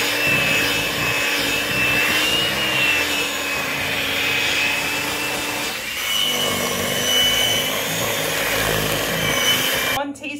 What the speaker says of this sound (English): And then mix until it's nice and thick.